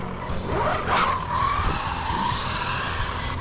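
A Tamiya TT02 RC car running on a 4S battery, motor whine rising and falling with a skidding squeal sweeping through the middle, loud and close, with no talk.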